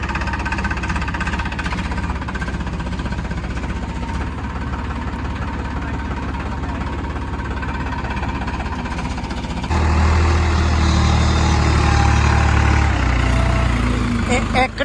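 A heavy 260 HP tractor engine rumbles and knocks continuously, then revs harder and louder partway through as it strains pulling a loaded trailer stuck in sticky mud, with voices faintly beneath.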